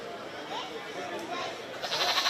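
Goats bleating in a livestock barn at the Shelby County Fair 4-H show, a few short wavering calls rising over a murmur of crowd chatter and people talking nearby.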